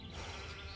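A sheep in the fantasy role-playing game Gothic II gives one short, steady bleat near a farm pasture, heard alone and fairly quiet.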